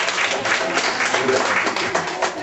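Applause and scattered cheering from a live audience at a spoken talk, a steady dense wash of clapping that fills the whole moment without pause.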